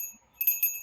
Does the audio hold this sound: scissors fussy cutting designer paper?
no